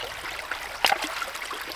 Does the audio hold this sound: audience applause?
no